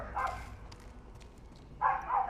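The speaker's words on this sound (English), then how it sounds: "Dogs are barking outside" Dogs barking outside, two short bursts of barking muffled by distance and walls, separated by a quiet gap.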